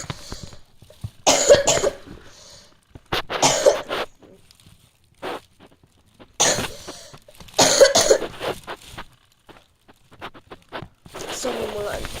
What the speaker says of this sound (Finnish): Sori, mulla on yskä.